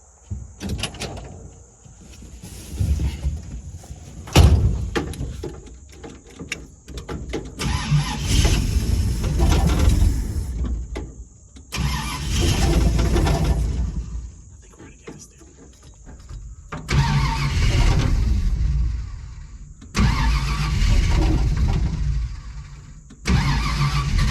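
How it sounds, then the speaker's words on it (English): A big block Ranchero engine cranks in several bursts and then pauses, close by, with people talking between the attempts as the starter grinds without a clean catch. "Motor still turns, we're fine."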